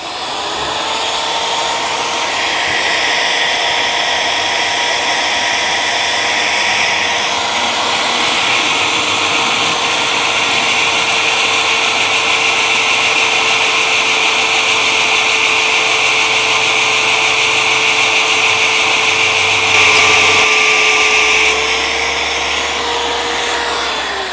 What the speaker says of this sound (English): Drill is magnetized to it.